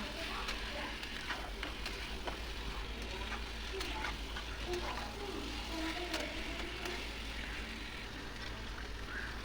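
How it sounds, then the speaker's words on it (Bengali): Mutton frying in a spice masala in a pan, a quiet, continuous sizzle with scattered crackles and occasional stirring scrapes. "এবার দিয়ে দেবো মাটন দিয়ে এটাকে ভালো করে কষিয়ে নেব"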